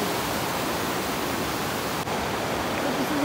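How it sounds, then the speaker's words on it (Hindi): A waterfall in the Skardu region pours with a loud, steady roar of rushing water that fills the whole stretch, broad and unbroken, with no pauses or letup. "बट इधर एक वाटरफॉल है जिसकी आवाज़ बहुत ज़बरदस्त आ रही है"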